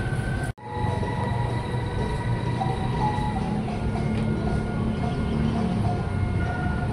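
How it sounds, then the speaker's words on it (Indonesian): A KRL commuter train runs at Tebet station in Jakarta with a loud, steady rumble and hum, plus tonal whines and squeals above it. The sound drops out briefly near the start, then continues without talk. "Dan KRL-nya tuh dari Jakarta Kota"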